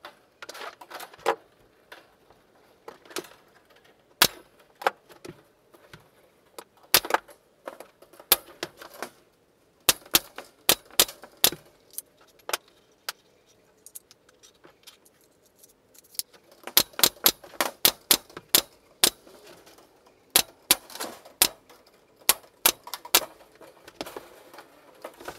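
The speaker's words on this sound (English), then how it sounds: "we'll staple all of the wire to that" A staple gun fastening wire mesh onto the wooden frame of a three-bay rabbit hutch: sharp, close snaps come singly and in quick clusters, with quiet handling noise between them.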